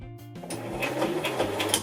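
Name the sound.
sewing machine stitching a seam on a fabric pouch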